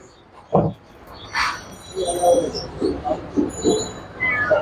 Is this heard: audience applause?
no